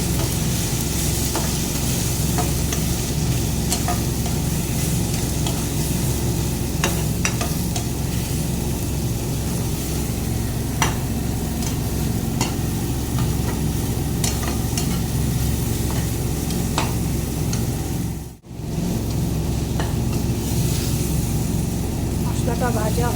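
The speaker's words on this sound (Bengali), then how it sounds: "এবার এটাকেও ভালো করে ভেজে নেব" Spices with Kashmiri chilli powder and kasuri methi fry in a pan for rajma, a loud steady sizzle with scraping stirs, with a brief dropout partway through.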